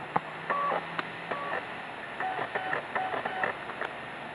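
The optical drive of an Asus G73JH laptop reads a reinserted Diablo 2 disc, giving faint clicks, short whirring tones and small mechanical ticks in quiet surroundings.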